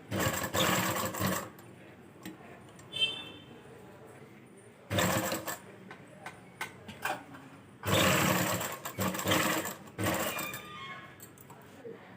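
A sewing machine stitches folded fabric for a collar in three loud bursts of fast whirring needle action, with quieter handling noises and pauses in between.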